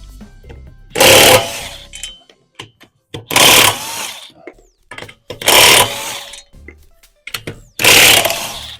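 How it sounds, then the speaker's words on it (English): DeWalt lithium-ion cordless impact wrench loosening the lug nuts on a Honda S2000's wheels during a tire changeover: four loud, close hammering bursts about a second long each, evenly spaced with quieter pauses and small clanks between them. "No problem for this DeWalt to bust these loose."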